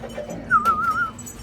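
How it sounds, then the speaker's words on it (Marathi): A bulbul gives a short, clear warbling call outdoors, a single rising and wavering phrase over faint background noise. "बुलबुल."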